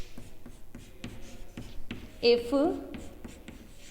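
Chalk or pen strokes on a board during a Hindi physics lecture on external forces and potential energy, short scratchy taps in an irregular rhythm under the lecturer's speech.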